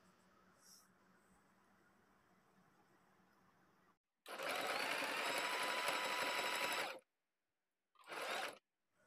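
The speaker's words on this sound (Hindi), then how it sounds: "मैं सिलाई लगाऊंगी।" Sewing machine stitching a fabric cover for a three-sided box: a steady whirring run of about three seconds, then a short burst, each starting and stopping abruptly after a faint quiet stretch.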